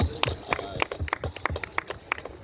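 A small group claps for a woman at a casual gathering, with irregular bursts of hand claps in a loose rhythm, some close and some overlapping, fairly steady for a couple of seconds with no talk.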